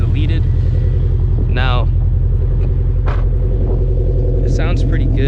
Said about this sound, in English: Now I'm gonna fire up the car now so you guys can hear exactly what it sounds like.